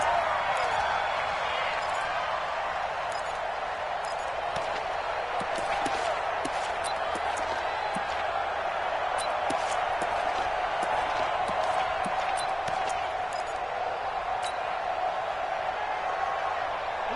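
A steady, dense roar from a stadium crowd in an American football video game, with a constant sustained tone and scattered clap-like ticks, building toward a big third down.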